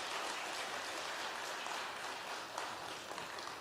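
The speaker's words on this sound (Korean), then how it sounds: "우리 큰 박수로 격려하면서 우리 맞겠습니다." A church congregation in Yeosu, South Korea, applauds to welcome a pastor to the pulpit for a Wednesday prayer service, a soft, even patter of clapping that continues throughout.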